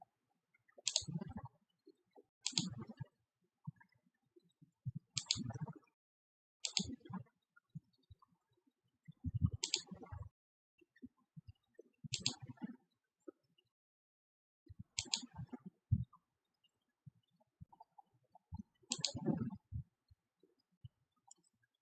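Computer mouse buttons clicking while working in ETABS structural design software, about nine crisp separate clicks spaced a couple of seconds apart in a quiet room.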